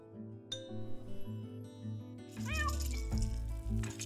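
A cat in the cozy crafting game Calico meows several times in quick rising calls, close and clear over soft background music and light clinks.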